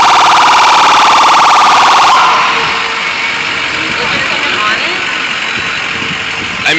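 Ambulance siren on a city street near a motorcycle fire at 14th Street and 5th Avenue, a loud, close wail that drops away after about two seconds, leaving engine rumble and street noise.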